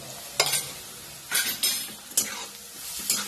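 Green chilies stir-fried with turmeric in a pan for ivy gourd bhaji give a steady soft sizzle, with a few sharp scraping stirs at irregular moments.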